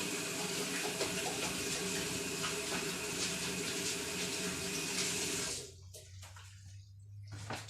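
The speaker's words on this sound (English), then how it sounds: "Rinse off my hands quickly." Running tap pours steadily into a sink while hands are rinsed, a continuous close splashing that stops abruptly after about five seconds, leaving quiet room tone.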